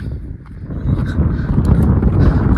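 Strong gusts of wind buffet the microphone at the Patla Betta hilltop viewpoint, a steady loud low rumble that swells and stays dense throughout.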